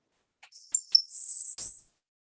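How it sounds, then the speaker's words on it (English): A single thin, high insect-like buzz song from a Florida grasshopper sparrow, preceded by a few faint ticks, heard once and alone. "The first is the buzz song."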